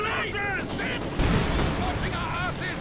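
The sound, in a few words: Maxim machine gun fire in Company of Heroes 2 video game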